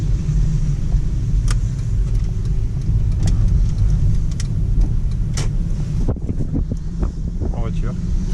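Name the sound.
car driving, right-hand drive car in Japan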